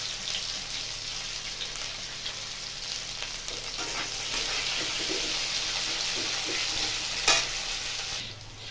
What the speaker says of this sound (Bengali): ফুলকপি এখানে ভাজা হয়ে গেছে, তুলে নেব।